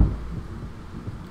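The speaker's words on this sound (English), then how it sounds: "That fucking thunder is no joke." Thunder in the Minecraft video game, a low, deep rumble that starts with a heavy boom and rolls on steadily without voices.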